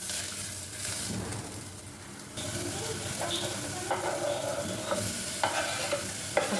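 Coriander powder sizzles in a hot pan while a spoon scrapes and stirs it in soft, uneven strokes, close up with a steady frying hiss underneath.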